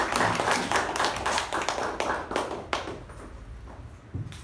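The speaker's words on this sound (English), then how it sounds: "Can Sudharma get a nice round of applause?" A small meeting group gives a round of applause, a burst of close hand clapping that thins out and fades into scattered claps and a few taps.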